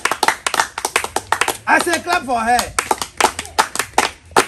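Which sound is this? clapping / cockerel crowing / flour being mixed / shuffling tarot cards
clapping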